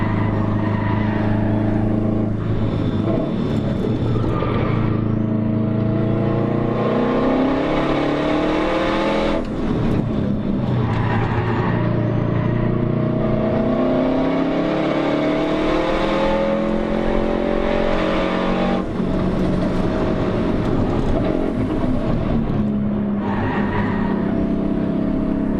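A race car engine at full throttle on a track during a ride-along, revving loud and close as it climbs through the gears into fifth, with rising and falling pitch sweeps and no talking.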